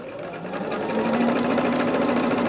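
A sewing machine stitches rows of a scrap quilt together, running as a steady, continuous whirring hum with a fast mechanical rhythm that grows slightly louder and carries on without any talking.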